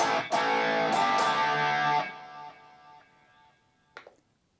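Enya Inspire electric guitar on its high gain preset, heavily saturated strums sustaining for about two seconds, then a fading tail and a faint string noise afterwards.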